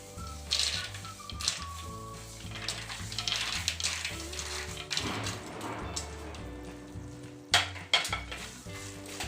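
Turmeric with fried peanuts and almonds sizzling in hot oil for poha chivda, a continuous frying hiss with stirring scrapes and a few metallic clinks against the pan, under background music and no talk.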